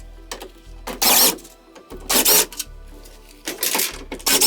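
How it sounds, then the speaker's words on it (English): Impact driver backing screws out of a school bus ceiling: three loud bursts of rapid hammering, each lasting under a second, separated by short pauses with faint motor whine between them. "Just an impact, take all the screws out."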